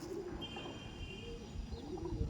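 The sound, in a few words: male pigeon being shown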